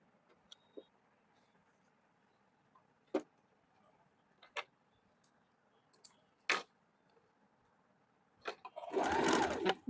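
Sewing machine stitching a two-piece blouse at the underarm seam: scattered quiet clicks and handling taps, then a short, loud burst of rapid stitching at the end.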